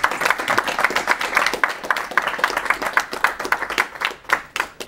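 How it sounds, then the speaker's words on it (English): One person clapping at home after a co-op Goof Troop speedrun on hard mode, a steady run of close, sharp handclaps with a few voices briefly chatting. "I'm clapping from home."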